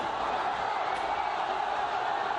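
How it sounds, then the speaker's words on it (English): A large crowd of pro-democracy protesters in Hong Kong makes a steady, distant roar, with massed voices blending into an even wash of noise. "Listen to that crowd."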